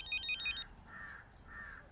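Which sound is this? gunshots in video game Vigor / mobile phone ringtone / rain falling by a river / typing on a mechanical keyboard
mobile phone ringtone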